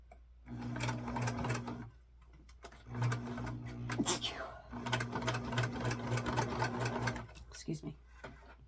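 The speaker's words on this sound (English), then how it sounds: "I'm going to now fold the sleeves down and sew a very tiny seam about thumbnail room from here to the bottom." A home sewing machine stitching a tiny sleeve seam on a doll's Easter dress runs in several short bursts of rapid, even whirring with pauses between, while someone talks softly over it.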